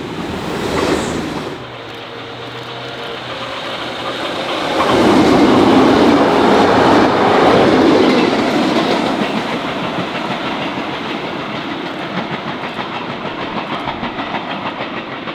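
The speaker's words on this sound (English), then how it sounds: "The Tait trains were a wooden-bodied electrical multiple-unit train" A Tait wooden-bodied electric suburban multiple-unit train runs on Melbourne track between Dandenong and Pakenham, giving a steady rumble with wheel clatter that swells to a louder roar midway and then settles into continuous rolling noise, close and loud.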